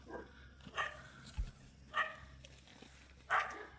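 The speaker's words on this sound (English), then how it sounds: "And sorry about the barking." Dogs bark in a few short, separate bursts at a moderate distance, with quiet pauses and no talking between them.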